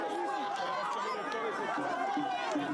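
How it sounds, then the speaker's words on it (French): A jubilant crowd in Timbuktu chanting and cheering François Hollande's name, a dense continuous wash of many voices with excited shouts rising throughout. "François Hollande, son nom est scandé par une foule en liesse"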